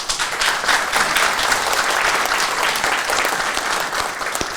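Sustained applause from a large audience at a peace economic forum in Seoul, thick and even clapping that fills the room throughout, with no voices over it.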